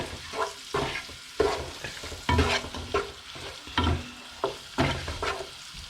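Prawns stir-frying with fried rice over a flame turned a little above medium, with repeated scraping and tossing strokes of a spatula in the pan over a steady sizzle, close and fairly loud, without talk.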